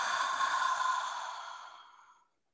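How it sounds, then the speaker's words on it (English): A group breathing deeply through their mouths together during a guided healing practice, heard as one long, soft, airy breath that holds steady and then gradually fades to silence, with no talking. "Inhale through your mouth."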